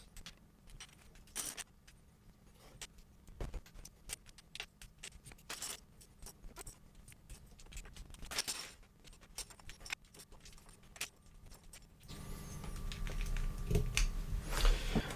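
Rapid clicking and clacking of plastic keycaps being pressed onto a mechanical Atari Falcon-style Decent XE keyboard, irregular taps close up, with a louder rushing noise near the end.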